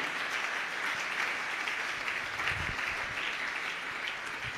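A church congregation applauds steadily for several seconds, a dense wash of many hands clapping at a moderate distance with no clear voice on top.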